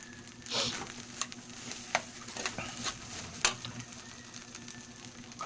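Fried rice (sinangag) stirred in a sizzling pan, with a steady frying hiss broken by several sharp scrapes and clinks of the utensil against the pan, close and moderately loud, no talking.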